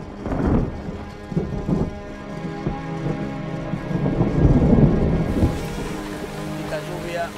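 Heavy rain falls steadily with deep rumbles of thunder rolling in and out, close and full, while someone speaks over the storm.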